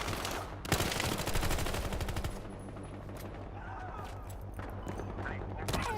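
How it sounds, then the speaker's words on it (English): Gunfire in the video game Battlefield Hardline, including sniper fire, comes as a fast burst of repeated shots followed by scattered single cracks and distant firing, with a voice talking over it. "Sniper fire."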